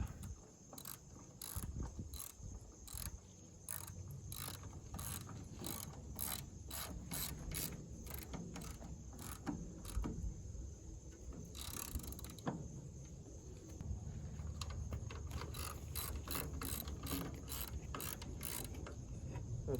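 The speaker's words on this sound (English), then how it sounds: "Get our nut tightened up." Rapid, steady ratchet clicks as a small nut is tightened onto a bolt with a lock washer while restoring a Cub Cadet 122 lawn tractor, dense repeated pawl ticks running almost the whole time, close and fairly loud.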